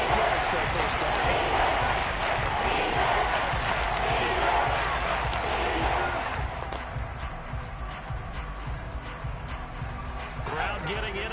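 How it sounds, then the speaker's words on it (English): A large stadium crowd at a professional football game roars in a dense, loud wash that eases after several seconds into a lower murmur with scattered shouts, while a commentator talks over it. "Crowd getting in it a bit already."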